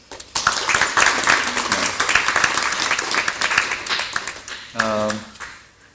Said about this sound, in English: at least let's give them a round of applause